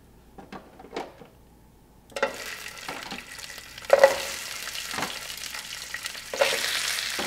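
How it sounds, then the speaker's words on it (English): Shellfish shells sautéing in olive oil, starting with a few quiet taps, then a close sizzle with stirring clatter that swells in steps, with no one talking. "I'm just going to saute them in olive oil for a few minutes till they turn red"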